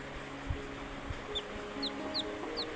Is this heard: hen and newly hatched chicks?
yes